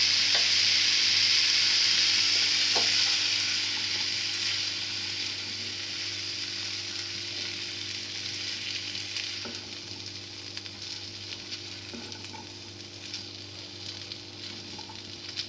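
Chickpeas frying with masala in a pan, a steady hissing sizzle that is loud at first and eases slightly over time, with occasional light clicks of stirring.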